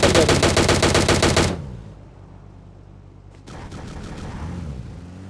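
Rapid automatic gunfire from the mobile battle-royale game PUBG Mobile Lite, a loud dense burst for about a second and a half, then a quiet gap before quieter game sounds and more shots return.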